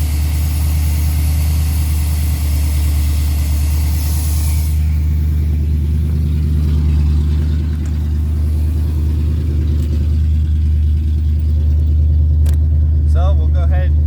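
A 1977 Pontiac Trans Am V8 engine idling after a carburetor tune, loud and close with a steady low rumbling throb throughout, someone talking over it and a few brief clicks near the end.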